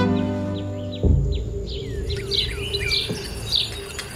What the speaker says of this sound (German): wie laut die Vögel hier sind